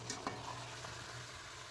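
Large homemade nimki made from mixed atta and maida fry in oil with a faint, even sizzle. A low steady hum runs underneath, and the sound is quiet and close, with no speech.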